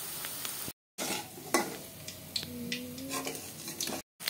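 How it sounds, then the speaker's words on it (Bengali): Soybean pakoras sizzle in hot oil in a kadai while a spatula scrapes and flips them, several close stirring scrapes over a steady frying hiss, with two brief dropouts. "বাকিগুলি উল্টিয়ে দিলাম কড়াইয়ের মধ্যে"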